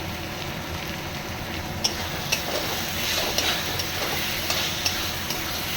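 Ground cumin and spices for mutton curry being stir-fried in a pan, a steady close sizzle with occasional light scrapes and clicks of a spoon against the pan, no talking.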